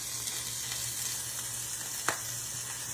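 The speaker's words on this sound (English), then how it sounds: "I am searing my cube steaks" Cube steaks sear in a hot pan on a stove, giving a steady close sizzle with faint spits and one brief clack.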